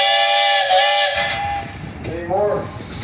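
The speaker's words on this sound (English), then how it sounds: "You got a whistle up there, Bob?" A loud steam engine whistle blasts at a threshermen's reunion in Pontiac, Illinois, with a rich, hissing tone, dips, then sounds again in a shorter rising note, close and strong.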